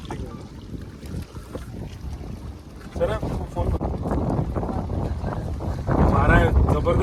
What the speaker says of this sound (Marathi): वारा आहे, जबरदस्त वारा आहे.